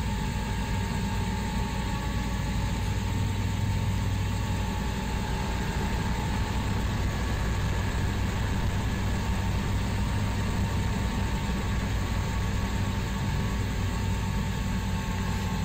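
A combine harvester engine runs in the farming video game Farming Simulator 2013, a steady, droning engine hum with a constant noisy texture for the whole stretch and no talk.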